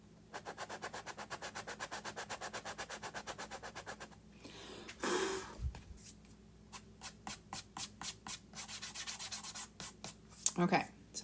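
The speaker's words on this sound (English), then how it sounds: "so that is sanded away" Sandpaper rubs quickly back and forth to remove a mark from a craft sled, making a close, rhythmic scratchy stroking that pauses briefly and then resumes in shorter, uneven bursts.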